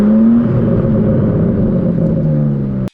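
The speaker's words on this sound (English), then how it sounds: "instantly you can hear the change of exhaust note. It becomes more aggressive, becomes louder." A loud 2025 BMW M4 Competition engine drones and revs steadily at close range with an aggressive exhaust note, then cuts off abruptly near the end.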